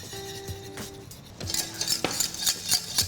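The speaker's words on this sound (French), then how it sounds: "Alors là, je vais fouetter parce que c'est un peu plus délicat avec cette recette-là pour éviter d'avoir des grumeaux" Whisk strokes clink against a pot as flour is worked into coconut choux pastry dough, a few quiet scraping and tapping bursts with brief pauses, growing busier toward the end.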